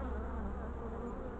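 Honey bees hum steadily at an open Dadant hive during a young-queen inspection, a dense continuous buzz close to the microphone with no talking.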